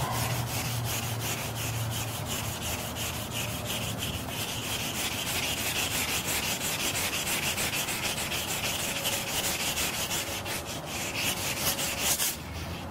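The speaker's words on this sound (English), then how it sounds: "This wet dry sandpaper is very old and probably will crinkle up and fall apart, but it will serve its purpose for right now." Old wet/dry sandpaper rubbed by hand in steady, fast back-and-forth strokes, a continuous close rasping scrape with no talking.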